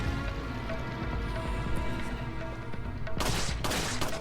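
Gunfire in Resident Evil 4, a quick volley of sharp, loud shots near the end, layered over constant game music and ambience.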